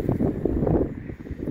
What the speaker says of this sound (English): Wind is really bad today